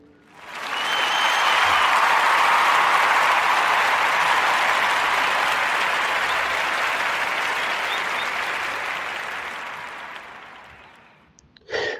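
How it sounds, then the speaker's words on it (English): Audience applause swells quickly into a dense, steady clapping that holds for several seconds before slowly fading out, loud and close with no talk over it. "forgot to clap it up for her"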